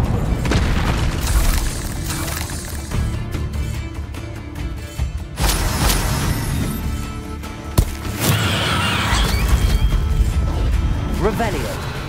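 Spell explosions from the Confringo curse in the Hogwarts Legacy video game burst repeatedly as loud booming blasts and crashes amid dense game sound, with a voice shouting spell names throughout.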